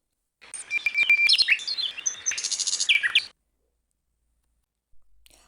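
Clear, high chirping and twittering bird song in rapid bursts for about three seconds, close and alone, then silence.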